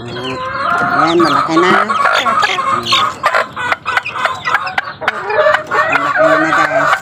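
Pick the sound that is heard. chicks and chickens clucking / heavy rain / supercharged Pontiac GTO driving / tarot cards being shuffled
chicks and chickens clucking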